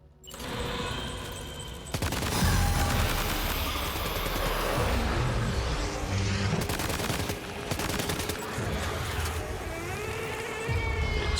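Dense gunfire and explosions from grenades in Death Stranding 2 rattle in rapid bursts over a loud, continuous combat din, with sharp blasts and a vehicle rumble, no voices.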